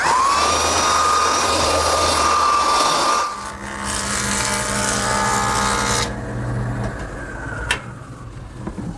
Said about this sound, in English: I'm ready to give each side a light sanding with my belt sander.